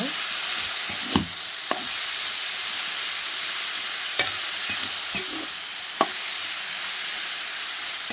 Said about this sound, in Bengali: এবার আমি ভিজিয়ে রাখা পালং শাকটা দিয়ে দেবো।